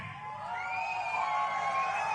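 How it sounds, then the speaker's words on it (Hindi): Audience at a Hindi political speech in Uttar Pradesh applauds and cheers, a dense, sustained crowd roar of clapping and shouts that swells slightly and holds steady throughout without speech. "अब ताली डबल बजानी पड़ेगी"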